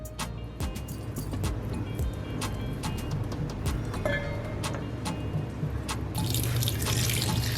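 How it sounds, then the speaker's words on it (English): Shredded saltfish is rinsed under a running kitchen tap, with a continuous close rush of water, scattered drips and splashes, and a louder gush near the end. "I'm going to give this a quick rinse in order to remove any of the excess salt that was trapped in between"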